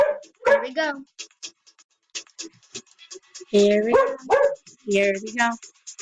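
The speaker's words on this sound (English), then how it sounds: "Sorry about my dog barking." Inside a house a dog lets out several close, loud barks in separate clusters, while a person keeps talking between and over them.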